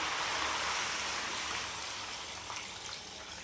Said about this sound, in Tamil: இந்த அளவுக்கு தண்ணி சேர்த்துக்கலாம்